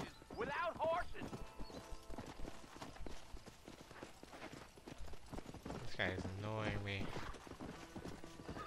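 Horse hooves clip-clop in the video game Red Dead Redemption, a steady walking rhythm under frequent talk, with a horse whinny breaking through partway.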